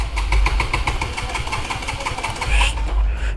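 A 2024 KTM Duke 200 BS7 motorcycle engine cranking and firing, a loud, close, rapid pulsing beat that runs steadily throughout with no talk.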